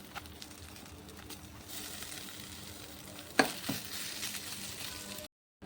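Mashed potato samosa masala being stirred in a frying pan, a soft steady sizzle with scraping spoon strokes and a couple of sharper knocks near the middle, close and moderate, then a sudden cut to silence.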